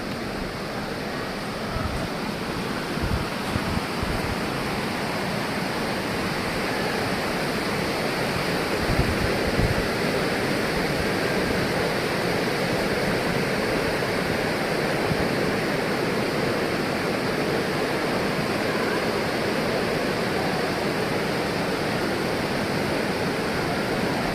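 Steady, loud rushing of a 300-metre waterfall, Vyaghreshwar falls at Manche in Devgad, a dense continuous roar of water with no break for the whole stretch.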